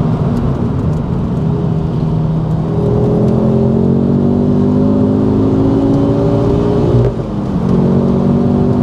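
A Mk2 Ford Focus RS fitted with the Mountune MR375 upgrade accelerates hard on a British back road, its engine droning loud and close from inside the car as the pitch climbs steadily, with a brief dip at a gear change.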